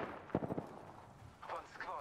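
A quick cluster of stray gunshots pops in a shooter video game, several sharp bursts close together early on, followed by quieter game ambience and faint voices.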